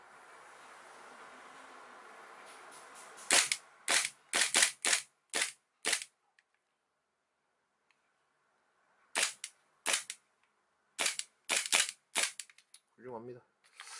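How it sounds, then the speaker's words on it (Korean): A Tokyo Marui Colt Mark IV Series 70 gas blowback airsoft pistol, held on its side and leaking gas, fires two close, loud bursts of sharp snapping shots, about six and then about eight, separated by a silent pause, with a brief voice at the end. "눕혀서 쏘니까 가스가 퍽퍽 새네요"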